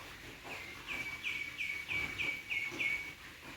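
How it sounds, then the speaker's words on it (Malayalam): A bird repeats a short, high chirp about seven times in an even rhythm, fairly faint and distant over soft outdoor background noise. "പക്ഷികളുടെ ശബ്ദം കേൾക്കാനുണ്ട്"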